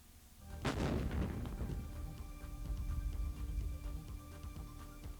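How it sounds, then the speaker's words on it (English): A small ring of explosives detonates around a missile booster to cut it in half, a single sharp blast that cracks out and then rumbles and decays into a long low roar, heard alone. "One fast way of cutting the booster is to detonate a small, precise ring of explosives placed around it."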